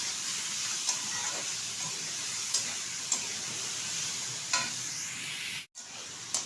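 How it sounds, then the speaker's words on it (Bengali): Lelua greens and small potato pieces stirred in hot oil make a steady, even sizzle with occasional soft scrapes of a spatula, one sharp clatter near the end, no voices. "একটু নেড়ে চেড়ে নেব তেলের সাথে।"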